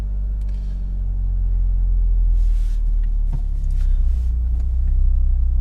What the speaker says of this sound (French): On a un petit cafouillage au départ. La voiture elle est un peu paumée parce qu'en fait le moteur il est pas chaud.